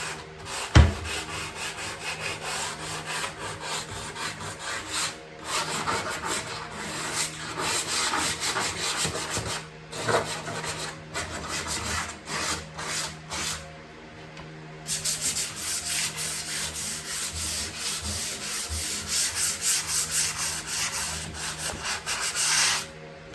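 A previously finished wooden kitchen cabinet in a 1929 house being roughed up with sandpaper: steady, close scratchy rubbing that runs almost continuously, with a brief lull midway and a slightly brighter, harder passage toward the end, no voices.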